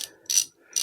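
A ratchet wrench loosens long stretch bolts on a high-compression Royal Enfield 650 engine build, giving two or three short bursts of close, quiet clicking separated by pauses.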